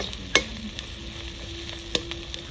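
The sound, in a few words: onions frying in a pan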